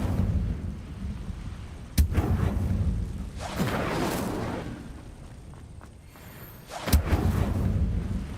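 Spell casting in the Hogwarts Legacy game, with the Incendio fire spell, sends sharp booming blasts and whooshing bursts of flame, two loud cracks spaced several seconds apart among rushing swells of noise.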